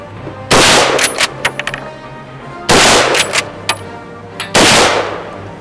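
A linear weapon fired at a shooting session at the Rabot, with three loud, close blasts about two seconds apart, each followed by short metallic clatters and echoes.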